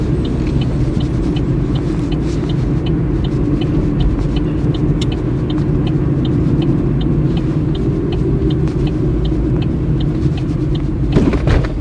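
Opel Corsa interior drive during an automatic-transmission driving test: a steady low engine and road rumble runs throughout at constant level, with faint repeating high ticks like an indicator and a brief shift in tone near the end.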